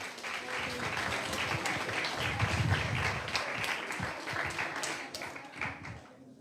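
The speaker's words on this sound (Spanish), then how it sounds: "Un aplauso, por favor." Audience applause at a poetry workshop gathering, steady broadband clapping for about six seconds that thins and fades toward the end, with some chatter mixed in.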